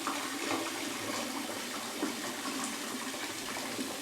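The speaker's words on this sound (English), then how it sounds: "I'm going to put the vinegar in" Vinegar poured steadily into a container of Italian red hot chili pepper oil, a continuous liquid splashing and trickling flow that runs close and fairly loud for the whole stretch, with no talking over it.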